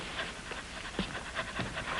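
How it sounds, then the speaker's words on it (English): A dog pants in quick, faint, rhythmic breaths, alone without any talking. "stop panting"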